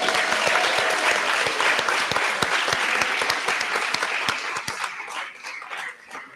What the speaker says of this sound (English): Okay, give them another round of applause.